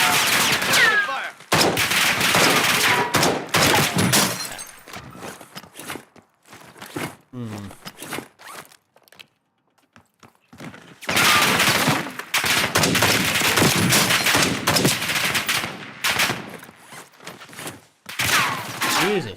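Call of Duty Warzone gunfight with loud bursts of automatic gunfire in two long volleys separated by a quieter gap, close and harsh, with a voice briefly heard in the lull.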